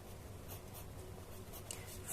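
Marker or chalk writing on a board during a class lesson, heard as faint, steady scratchy strokes in short rhythmic bursts over a low room hum, with no talking.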